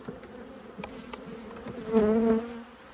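Buckfast honey bees buzz around a hive while frames are being handled, a steady close drone that swells louder near the end, with no talk.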